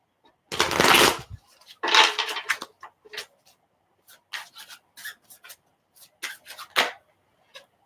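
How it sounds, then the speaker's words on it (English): Tarot cards are riffled and shuffled in two quick bursts, followed by a series of short snaps and taps as they are handled and squared up, close by. "Let me do one more shuffle"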